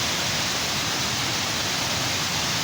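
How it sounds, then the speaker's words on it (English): Steady, dense rush of falling water from a waterfall at a nighttime site, a constant broadband roar with no breaks, close and fairly loud. "See the waterfalls?"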